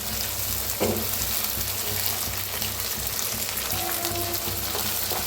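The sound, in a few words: stirring and roasting ambadi greens in a pan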